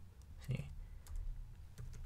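Quiet computer keyboard key presses and a mouse click while working in Adobe InDesign, a few soft separate taps, close but faint.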